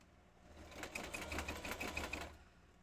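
A sewing machine stitching through a scrapbook page runs in one steady burst of rapid, even mechanical ticking, close and fairly quiet, starting and stopping cleanly with no voices.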